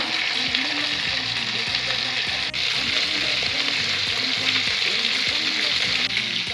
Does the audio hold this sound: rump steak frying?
yes